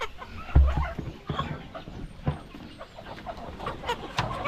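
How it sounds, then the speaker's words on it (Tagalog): A chicken clucks and squawks in scattered bursts while being caught by hand, with close scuffling thumps and rustling around it. "napakadali lang maghuli ng manok"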